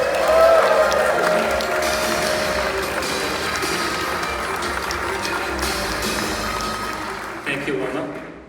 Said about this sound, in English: Let's give a big round of applause to the VP and Park Manager for Six Flags Over Texas